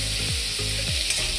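Garlic, tomato and green chili sizzle in hot oil in a pan for a spicy ridge gourd curry, with a steady fry hiss broken by several sweeping stirs of the spatula at close range.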